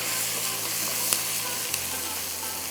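Steady, dense sizzle of meat masala frying in a pan for mutton gravy, continuous hiss with a couple of faint clicks from stirring.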